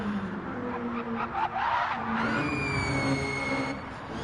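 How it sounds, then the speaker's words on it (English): Racing car in Gran Turismo 7 at the Red Bull Ring, its supercharger whining loudly alongside engine roar and tyre noise, with a rising high whine that holds steady over the last couple of seconds. "It sounds like a supercharger going absolutely mental."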